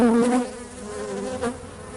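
Honey bees buzzing on the porch of a hive as new brood emerge for their first orientation flight, a steady close swarm drone with layered wingbeat tones rising and falling, no talk.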